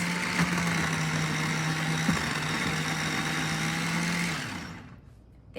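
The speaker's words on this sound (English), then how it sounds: "food processor, and then I'm gonna start adding my onions" A food processor chopping onions runs with a steady, loud motorized whir and faint chopping texture, holding an even pitch before the motor winds down and stops near the end.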